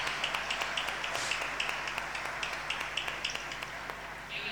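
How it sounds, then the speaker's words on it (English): Audience applause following a talk at a cities-for-employment forum, a steady dense patter of many hands clapping throughout, moderately distant in a hall. "a big round of applause"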